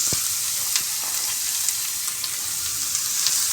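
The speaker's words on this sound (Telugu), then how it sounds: "క్యారెట్ వేసేసుకోవాలి బౌల్లో. మొత్తం వేసేసుకొని అందులో మళ్ళీ 2 స్పూన్లు నెయ్యి కూడా యాడ్ చేసుకోవాలి." Grated carrot frying in ghee in a pan gives a steady, close sizzle that runs throughout, with small crackles and occasional stirring scrapes on top and no talking.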